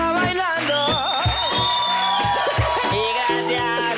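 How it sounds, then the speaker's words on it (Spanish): A Colombian TV studio audience cheers and applauds during a live show, the crowd noise mixed under rhythmic music and a singing voice that carries through the whole clip. "Un aplauso para el monstruo que está bailando."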